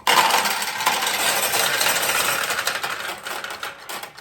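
Balls pour into a 1973 Nishijin Model A pachinko machine in a loud, dense, continuous metallic rattle and clatter that thins out near the end.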